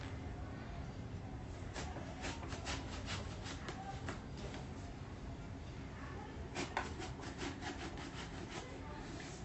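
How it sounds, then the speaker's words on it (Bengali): A boti blade slicing a washed young brinjal into thin rounds at home, giving a steady run of soft, scraping cuts over low room hum at a quiet, even level. "এবার একটা বটি দিয়ে বেগুনটাকে কেটে নেব।"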